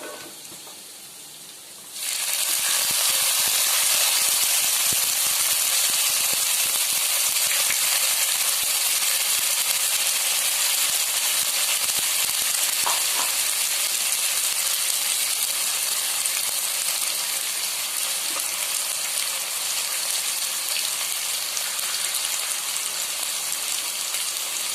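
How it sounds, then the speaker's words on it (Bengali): Spice paste poured onto browned garlic in a pan erupts into a loud, continuous sizzle that holds steady with faint crackles throughout. "মিডিয়ামে রেখে গ্যাসটাকে আমি মশলাটাকে কষিয়ে নিচ্ছি।"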